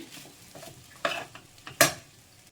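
Potato fried rice gets stirred in a pan on the stove, with a few scraping strokes of a spoon against the metal. The last scrape is loudest, over a faint sizzle.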